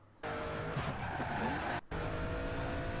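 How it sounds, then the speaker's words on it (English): A car drifts in an Unreal Engine remake of the NFSU2 racing game, its tires skidding and squealing in a sustained, loud screech over engine roar, cut by a brief dropout before the skid noise resumes. "Damn, 30 seconds of that was just him drifting around."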